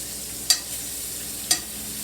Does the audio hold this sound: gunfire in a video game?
no